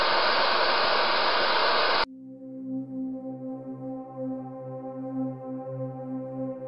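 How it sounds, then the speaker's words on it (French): A radio receiver scans medium wave frequencies during an investigation at a disaster-struck inn: a loud burst of broad static, then a sudden cut to steady droning tones and hum. "Nous balayons les ondes MW, c'est-à-dire les ondes moyennes"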